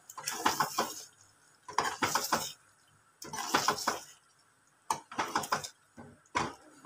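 Mutton pieces stirred in a cooking pot with a metal spoon, scraping and clinking in four separate bursts with quiet pauses between, close and clear.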